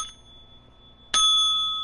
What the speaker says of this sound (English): Just smack the bell.